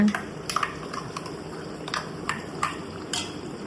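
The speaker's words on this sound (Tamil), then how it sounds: "தேங்காய் அரைச்சதை அப்படியே ஊற்றிடலாங்க" Coconut paste going into a simmering chicken gravy in a metal pan, with scattered light clinks and scrapes of a spoon against the vessel over a low cooking hiss.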